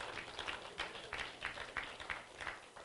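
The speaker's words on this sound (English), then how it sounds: "give the Lord a hand clap of praise" A church congregation clapping hands in praise, a faint, loosely rhythmic run of claps with distant murmuring voices beneath.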